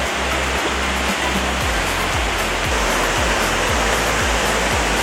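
A deep river stream flows along a forest trekking path between waterfalls, a loud, steady rushing wash of water close by with low rumbling pulses underneath, no voices.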